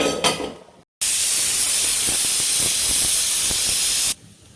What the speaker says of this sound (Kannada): ಈಗ 1 ವಿಷಲ್ ಆಗಿದೆ.